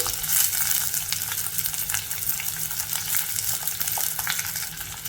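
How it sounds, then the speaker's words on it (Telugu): Chopped onion goes into a pan with lightly fried garlic, giving a steady, dense sizzle with occasional stirring clinks, close and continuous without speech. "వెల్లుల్లి లైట్గా వేగింది ఇప్పుడు ఇందులో ఒక పెద్ద ఉల్లిపాయని ఇలా చిన్న ముక్కలుగా కట్ చేసి వేసేసుకోవాలి"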